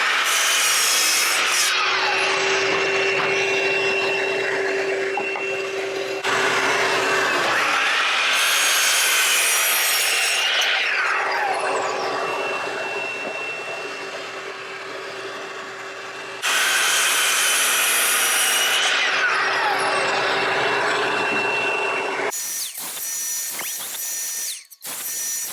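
Hand saw cutting scrap wood braces at 45-degree angles for a rolling table frame, with long steady rasping strokes in several bursts, close and loud, pausing between cuts, then a few clicks and knocks at the end.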